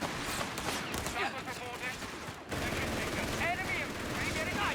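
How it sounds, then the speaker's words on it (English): Sustained game gunfire from machine guns setting up in a Company of Heroes 3 2v2 match, with dense overlapping bursts and battle noise filling the mix and a brief dropout midway, loud and continuous throughout. "Here we go, machine gun setting up."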